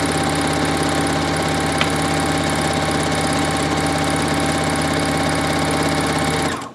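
Sewing machine stitching through four folded layers of fabric, a loud, even, rapid mechanical chatter running steadily for several seconds before stopping abruptly at the end.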